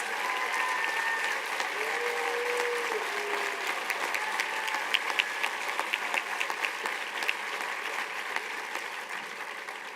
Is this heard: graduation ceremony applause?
yes